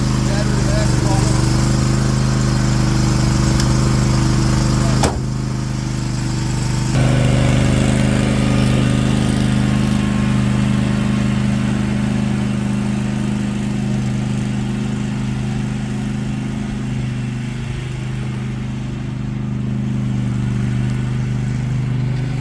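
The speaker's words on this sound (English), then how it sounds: "Gonna mow the lawn." A lawn mower engine drones steadily and loudly through the whole stretch, with a brief dip and shift in pitch partway through as it keeps cutting grass in a home yard.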